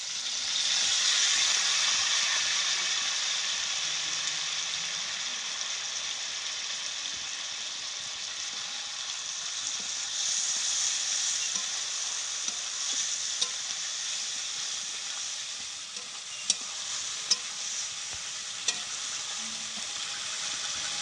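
Ginger, garlic and onion paste frying in hot oil for a Bengali prawn malai curry, a steady, close hissing sizzle that holds evenly, with a few faint clicks of a spoon near the end.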